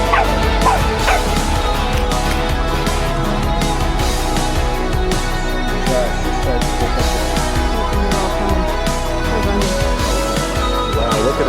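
A dog barks protectively, a loud, near and relentless run of barks and yips mixed with whimpers that continues throughout amid busy background noise.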